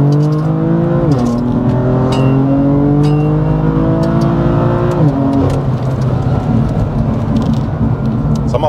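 BMW M4 GTS straight-six running loud and close, its steady drone rising in pitch, dropping at a gear change near one second and again near five, then holding a rough, even roar.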